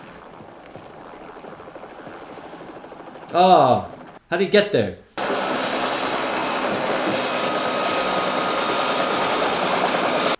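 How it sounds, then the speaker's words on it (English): Helicopters fly in the film Escape from the Planet of the Apes. A low engine hum and a brief burst of voices lead into a loud, steady, continuous rotor drone that fills the rest of the scene. "there's a bunch of helicopters."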